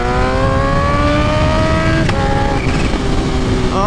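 A Kawasaki Ninja H2 supercharged motorcycle revs hard at about quarter throttle, a loud, close engine roar whose pitch climbs and shifts throughout.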